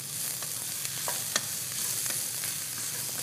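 Chicken pieces fry with green onion and garlic in a pan, a steady loud sizzle and hiss with scattered crackles and soft stirring scrapes throughout.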